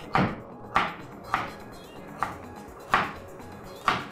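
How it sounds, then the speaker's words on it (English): A knife chops through carrot and spring onion on a board, six distinct, evenly spaced thunks, close and clear with quiet pauses between, no talking. "I'll quickly cut my vegetables"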